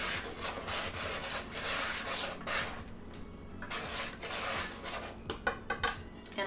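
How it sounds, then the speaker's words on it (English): A whisk stirs sifted dry white cake ingredients in a bowl, a close, continuous scraping and rubbing with light taps of metal against the bowl toward the end. "And I'm just gonna whisk it a little bit."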